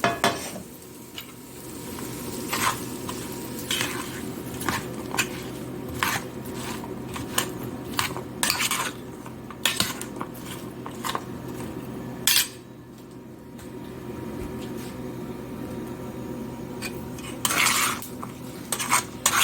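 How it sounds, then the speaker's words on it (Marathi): Mango pickle with chutney, asafoetida, heated oil and salt is stirred in a metal bowl, a spoon clinking and scraping against it in irregular bursts over a soft background hiss. "चटणी कैरी हिंग तेल मीठ हे सगळं व्यवस्थित मिक्स करून घेऊया आता"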